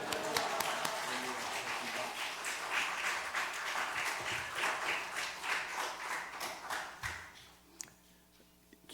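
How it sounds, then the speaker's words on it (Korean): A church congregation gives a loud round of applause to welcome a missionary, many hands clapping with audible individual claps in the mix, rising and then thinning out to a few scattered claps at the end. "큰 박수를 한번 모시도록 하겠습니다."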